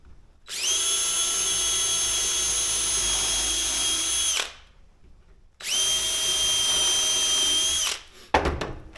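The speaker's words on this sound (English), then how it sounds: "pre-drilling this stuff is kind of hard, this siding" A power drill pre-drilling holes into house siding runs in two long, steady whining bursts of about four and two and a half seconds, close and loud, separated by a short pause, ending with a brief clatter.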